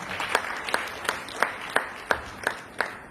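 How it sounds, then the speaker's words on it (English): Sparse, evenly spaced claps from a small audience at a girls' tech event, about one clap every third of a second over a quiet room, fairly close and moderately loud. "A round of applause for her."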